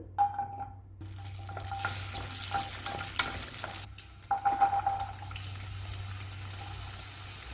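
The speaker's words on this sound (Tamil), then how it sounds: "கடாய் வச்சுட்டு கொஞ்சமாக நல்லெண்ணெய் ஒரு ஏழு பல் பூண்டு" Garlic cloves sizzle in a little sesame oil in a kadai, a soft, steady frying hiss broken by a few stirring clinks, with no talking.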